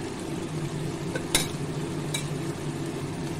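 Bottle gourd curry with mustard oil being stirred in a pan: a soft continuous sizzle with two sharp utensil clinks against the pan, close by and without talk.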